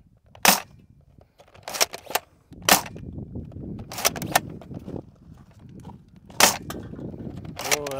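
Foam dart blaster firing at a target about 30 paces off, with roughly ten sharp, snappy shots and hits arriving in irregular bursts over a low background murmur.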